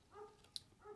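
A dog gives a few short, faint barks and yips, distant and quiet against a soft background.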